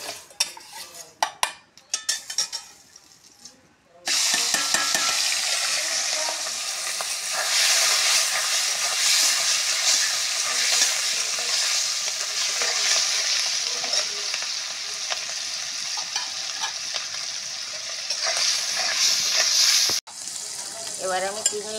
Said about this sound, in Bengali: এবার আমি চিংড়ি মাছটা ভাজা করব।